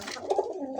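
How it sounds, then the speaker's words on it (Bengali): A koka pigeon coos in soft, rounded repeated calls, close and fairly quiet, among other pigeons kept for sale. "আমি কবুতর আপনাদের ডাকাই দিব, কবুতর ডাকলে নেবেন"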